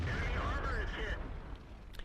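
The 105mm cannon of the 4202 tank fires in World of Tanks, a heavy booming shot with a whining tail that fades over two seconds, while a voice talks over it.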